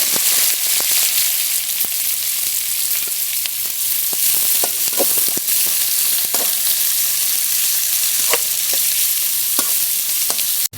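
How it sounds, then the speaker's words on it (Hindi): Steady, close sizzling of onions frying in a pan, with occasional scrapes and clicks of stirring throughout. "चार मैंने प्याज ले लिए, इनको हल्का हम फ्राई कर लेंगे।"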